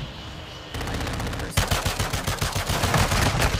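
Rapid video-game gunfire erupts after a quieter stretch, a dense run of sharp close shots that keeps going and builds in loudness toward the end.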